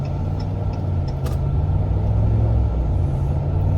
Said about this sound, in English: I do love the sound of that V8